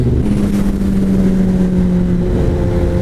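Kawasaki ZX10R sport bike engine held in fourth gear during a wheelie attempt, a steady loud mid-pitched drone with a sustained tone, close and continuous with no talking.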